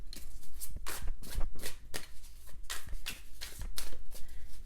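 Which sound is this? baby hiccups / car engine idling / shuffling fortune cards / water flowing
shuffling fortune cards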